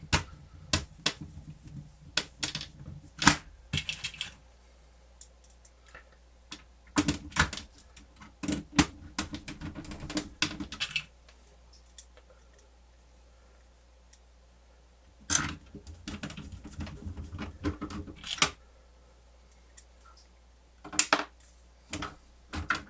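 Screws come out of a Pioneer CLD-V870 laserdisc player in short bursts of small metallic clicks, taps and rattles, separated by quiet pauses, close by and without speech.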